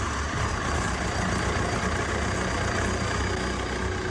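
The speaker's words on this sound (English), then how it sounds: "So when I authenticate, the bike powers up." A motorbike switched on by an RFID reader hums steadily at idle, a continuous low engine drone with broadband noise that stays even and close for the whole stretch, with no talk over it.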